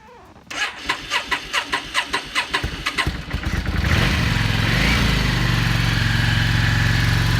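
A 2005 Yamaha V Star 650 motorcycle engine cranks with rapid rhythmic chugs, catches, and settles into a loud, steady idle close by.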